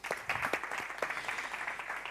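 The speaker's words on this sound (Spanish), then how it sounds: "un aplauso para Eric." A conference hall audience claps together in a dense, steady round of applause at a meeting in Bilbao, loud and continuous throughout.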